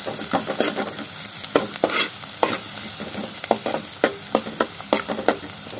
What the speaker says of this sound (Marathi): तापलंय कांदा टाकतोय सगळ्यात, कांदा परतून घेऊया